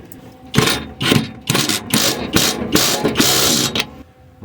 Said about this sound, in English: We'll send the bolt back in.